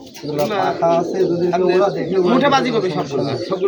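Rajshahi Giribaz pigeons coo close by, their soft throaty calls mixed with people talking loudly over them throughout.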